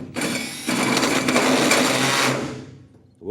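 A drill with a large arbor spins a hole saw through the metal floor of a truck bed, giving a loud, steady grinding whine for about two seconds that starts abruptly and then winds down.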